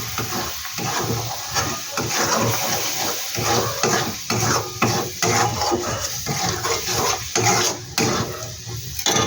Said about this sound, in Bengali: এবার মশলাটার সাথে আমি ভালো করে একটু কষিয়ে নিই